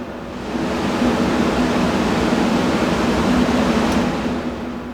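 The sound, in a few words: furnace blower motor gradually speeding up while measuring RPM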